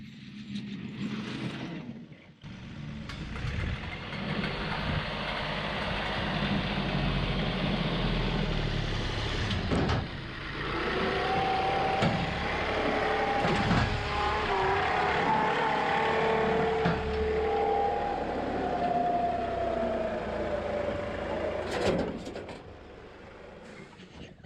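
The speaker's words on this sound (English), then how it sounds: "now you're seeing me mow the second half" A tractor pulling a brush hog mows a field, its engine drone steady and fairly loud throughout with a few louder knocks and clunks, and no talking.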